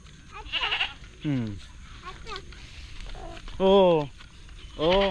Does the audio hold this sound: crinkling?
no